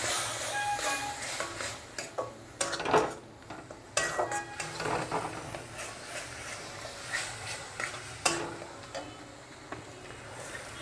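Masala of chili, coriander and cumin powder with a little water being stir-fried in a pan: soft sizzling under irregular scraping and clanking of a spoon against the pan, some strokes louder than others.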